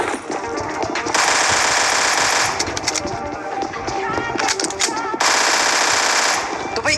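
In a battle royale shooter game, automatic gunfire rattles in loud, rapid bursts, with two long sustained volleys separated by shorter crackling shots.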